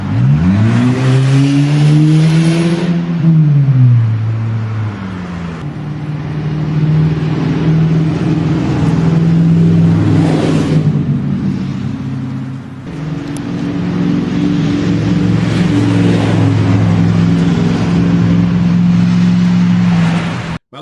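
Road traffic passing close by a house on an Alabama street, cars swelling and fading one after another with engines revving and tyres rushing, loud and near, no talk.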